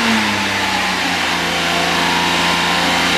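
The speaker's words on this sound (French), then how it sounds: "On demande d'accélération entre 2005 et 3000 tours pendant 1 minute." Car engine held at a steady high rev during a vehicle emissions test at an inspection centre, a loud, close, sustained roar with a slight rise in pitch early on.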